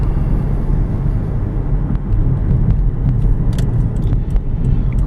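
A 2010 Subaru Outback AWD wagon with a CVT driving on back roads and side streets, a steady low road and engine rumble with a few faint knocks from the cabin.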